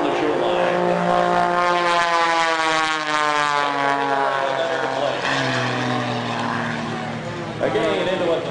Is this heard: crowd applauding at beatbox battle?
no